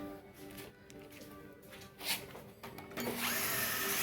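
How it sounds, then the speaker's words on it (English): A heavy-duty cordless drill whirs in short bursts while changing nyckelharpa sympathetic strings, the motor's pitch rising and falling, then runs steadily louder toward the end. Close by, no talking. "now the cordless drill that I'm using is a kind of a heavy duty one"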